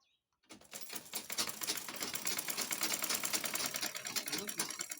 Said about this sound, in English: Then I'm going to stitch it straight.